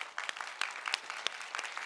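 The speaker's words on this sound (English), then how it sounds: "Everybody give her a round of applause." Applause from an audience at a business meeting, a modest group clapping with individual sharp claps standing out, fairly faint and brief.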